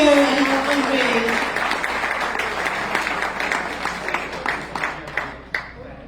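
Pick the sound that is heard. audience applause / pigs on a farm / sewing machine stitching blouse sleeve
audience applause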